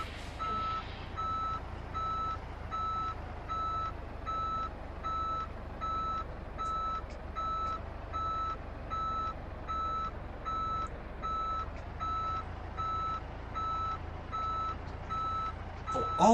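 A Peterbilt 389 heavy-haulage truck in Euro Truck Simulator 2 reverses, its backup alarm beeping in a steady, evenly spaced rhythm over a low engine rumble for the whole stretch.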